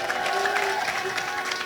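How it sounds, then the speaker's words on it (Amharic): A church congregation breaks into praise, with continuous clapping mixed with high, wavering ululation from many voices, moderately loud and filling the room throughout. "አዎ ለጌታ እልልታ ጭብጨባ።"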